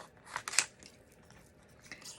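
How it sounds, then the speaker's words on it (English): Large scissors snip through card paper in a few crisp, close cuts followed by faint rustling, quiet and brief. "I would probably use large scissors to cut this out because it's a lot of cutting"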